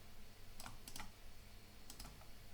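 Keystrokes on a computer keyboard come in two short bursts of several quick clicks each, close and fairly quiet over a steady low hum, with no talking.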